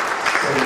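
A church congregation claps during a morning service, a brief, dense burst of applause that stays loud and even throughout.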